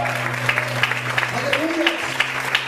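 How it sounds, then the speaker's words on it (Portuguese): Scattered applause from a church congregation, with a sustained tone and voices carrying over the clapping throughout. "Você pode aplaudir e exaltar o Senhor por isso."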